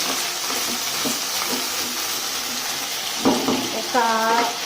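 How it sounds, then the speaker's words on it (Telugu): Stuffed eggplants fry in oil with a steady, close hiss and crackle that holds throughout, with a few clinks and a short voice-like sound near the end. "ఇట్లా ఫ్రై చేసుకోవాలి."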